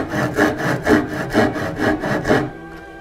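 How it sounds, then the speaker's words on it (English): A hand dovetail saw cuts wood along a scribed line, making about eight even back-and-forth rasping strokes in a steady rhythm, close and alone, before stopping. "So I'm using my dovetail saw, and I have a line scribed here for the dovetail."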